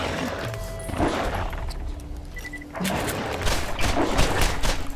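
Grenade explosions and gunfire in the Borderlands video game during a boss fight, loud thumps and booms in bursts around a dense battle mix.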